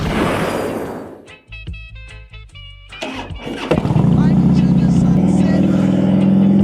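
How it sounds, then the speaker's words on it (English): A Harley-Davidson Softail motorcycle is started up close. A brief starter whir and stuttering cranks give way to the engine catching, which then settles into a loud, steady, low rumbling idle. "today we're rolling the Softail"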